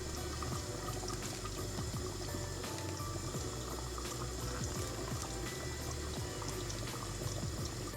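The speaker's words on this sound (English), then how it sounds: "Add the washed rice into the pot of hot water." Washed rice goes into a pot of hot water seasoned with salt, cardamom pods and cinnamon, giving a continuous watery pouring and bubbling with small splashes and clinks that stay steady throughout.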